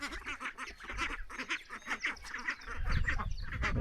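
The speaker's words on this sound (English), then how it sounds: "I have my Welsh Harlequin hens and my Indian runner ducklings," Indian runner ducklings peep and quack in quick, rapid bursts close by, a busy rhythmic chatter that turns into a rougher shuffling noise near the end, with no talking.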